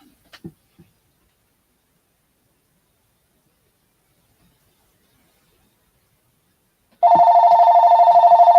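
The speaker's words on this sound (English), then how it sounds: "Oops, I forgot to move the phone out of here." A telephone starts ringing abruptly after near silence at a live auction, a loud, steady electronic ring continuing to the end, preceded by a few faint taps and handling noises.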